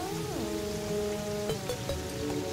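Rain falls in the Terraria video game, a steady, hissing patter that runs throughout beneath tonal game music and occasional short effects.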